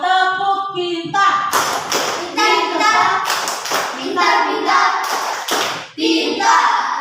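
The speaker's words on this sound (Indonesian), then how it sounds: "Tepuk pintar untuk kalian semua." Schoolchildren in an Indonesian classroom perform a rhythmic group clap, loud and close, with their voices chanting along throughout.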